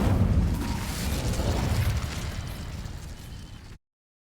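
The Incendio fire spell from Hogwarts Legacy bursts out as a single loud, roaring whoosh of flame that dies away after a few seconds and then cuts off.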